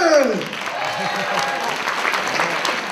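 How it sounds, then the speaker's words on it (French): A crowd at a cosplay contest claps steadily throughout, with a voice speaking over the start of the applause. "Et ceux qui n'ont pas d'appareil photo dans les mains, vous applaudissez."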